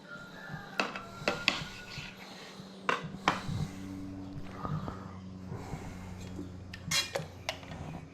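Knife slicing through homemade pork ham at a farm in the Philippines, with scattered clicks, taps and scrapes of blade and board, some sharp knocks against a plate, close and intermittent.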